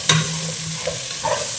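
Mango pieces being stirred into a village-style ayila fish curry in a frying pan, giving a few scraping stirs and soft sizzling bursts, close and fairly loud with no talk.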